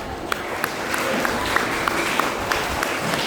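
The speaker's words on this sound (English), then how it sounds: "All of you give a clap." Schoolchildren clap for their teachers at a Teachers' Day celebration at Holy Saviour English Medium School, a steady mass of crowd applause with a few sharper claps standing out.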